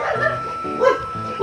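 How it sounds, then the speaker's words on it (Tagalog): A dog barks and yips in short bursts, close and fairly loud, at a quiet Sunday construction site with no carpenters working. "Ayun, may aso."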